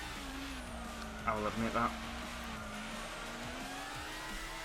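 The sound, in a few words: race car braking and skidding in the video game Gran Turismo 6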